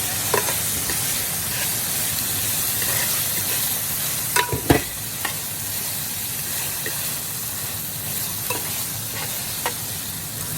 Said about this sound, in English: we're gonna put in our onion. Saute everything for about another minute.